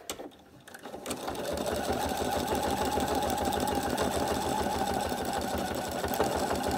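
Sewing machine doing free-machine embroidery stitching on a campervan appliqué, starting up after a brief pause and then running with a fast, steady mechanical chatter close by.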